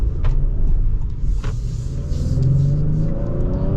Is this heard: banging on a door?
no